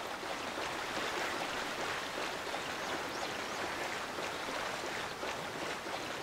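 A waterfall in the video game Monster Hunter Rise gives a constant broad rushing roar of falling water. It is soft and even, with no talk over it.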